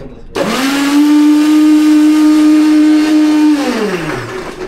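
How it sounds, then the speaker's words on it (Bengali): A countertop blender whirs up to full speed and holds a steady, loud motor whine while crushing ice for a frappe cold coffee, then winds down near the end; no talking. "ব্লেন্ডার চালানোর নিয়ম হচ্ছে প্রতি 30 সেকেন্ড পর পর ব্লেন্ডারকে 10 সেকেন্ড রেস্ট দিতে হবে"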